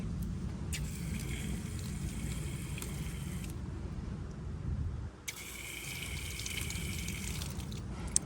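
Water from a hose with weak pressure rinses the coil of a Rheem hybrid water heater, a steady hiss and spray that cuts in and out in two long bursts, with no speech.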